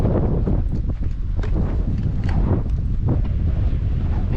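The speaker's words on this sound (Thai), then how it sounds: "เพราะว่าจะมีลมพัดผ่านอยู่ตลอดเวลานะครับ" Strong wind buffets the microphone in a continuous loud rumble, steady throughout with faint background sounds beneath it.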